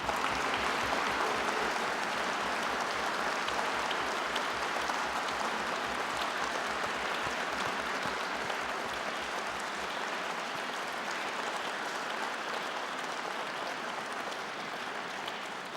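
An audience under the Coupole at the Académie's formal autumn opening session applauds in a long, sustained wash of clapping, steady and even throughout, with a faint low rhythmic pulse early on.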